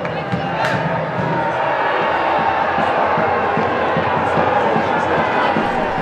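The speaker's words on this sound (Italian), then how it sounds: "i 350 tifosi romagnoli presenti al Bonolis esultano" Football supporters of Cesena, about 350 fans, cheer in the stands at the Bonolis stadium during a match against Notaresco, a steady distant crowd roar lasting throughout, under a commentator talking.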